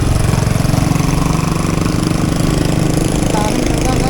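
An engine runs steadily in deep flood water, a loud, rhythmic, throbbing mechanical drone that holds constant throughout with no speech over it.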